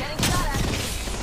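Gunfire in Apex Legends, a quick burst of shots crackling close by for about a second, with a voice partly under it.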